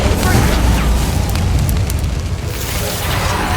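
A Confringo fire spell blasts in Hogwarts Legacy, a loud, sustained roaring burst with rumbling low end and fiery crackle filling the whole stretch, with a voice heard within.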